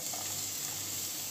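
Garlic frying in hot oil makes a steady, close, even sizzle throughout, with no voices.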